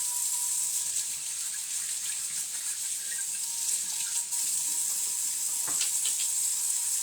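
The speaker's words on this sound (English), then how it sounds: "Wash my hands real quick." Water runs from a kitchen tap as hands are washed, giving a steady, even rushing hiss with no voices over it.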